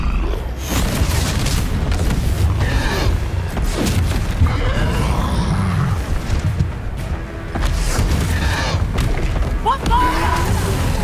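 A Bombarda spell blast in Hogwarts Legacy, with heavy booming thuds and rumbling impacts that stay loud through the fight, under Vietnamese and English talk and game noise.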